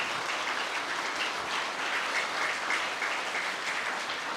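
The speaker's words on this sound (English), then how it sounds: "So I think we need to start off with a huge round of applause for our staff and also for our students." An audience at a school senior prizegiving gives a big round of applause for staff and students: dense, continuous clapping at a steady level from many hands, filling the room without pause.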